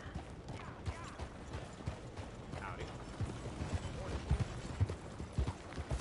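Horse hooves clip-clop in Red Dead Redemption 2 Online on PS5, a quiet, steady walking rhythm of hoof strikes with faint mechanical game sounds beneath.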